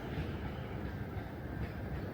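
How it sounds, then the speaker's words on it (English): Commuter passenger trains pass on a railway line beside Tower Hamlets Cemetery Park in London, giving a steady rumbling roll of wheels on track that stays even and moderately distant throughout. "got plenty of trains going past"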